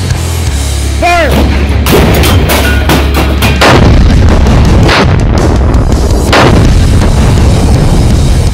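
Tank gun firing: a loud, close series of heavy booming shots with rumbling echoes, spaced irregularly across several seconds amid battle noise.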